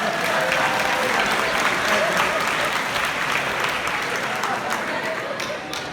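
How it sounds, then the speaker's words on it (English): Audience applause at a magic show, dense continuous clapping from a crowd that stays loud and fairly even, tapering a little toward the end, with a faint voice underneath. "Let's give them a hand"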